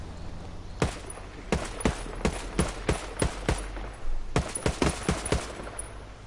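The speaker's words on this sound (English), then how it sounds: "What's this gun sound like?" Gunshots from a weapon in Ghost Recon Wildlands on PS4 Pro: a string of about fifteen sharp, separate reports fired at an uneven, fairly quick pace, with a short pause partway through, moderately loud and heard alone.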